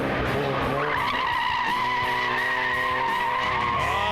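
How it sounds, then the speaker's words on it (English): A drift car slides through a competition drift section, tires squealing in a long sustained howl over the revving engine, loud and continuous with pitch sweeps as the slide changes. "John going into the drift section, drifts pretty well there."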